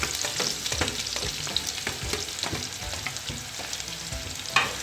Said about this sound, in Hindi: ऑयल हमारा गर्म हो चुका है, तो अब मैं क्या करूँगी कि इसमें कट की हुई प्याज डाल दूँगी।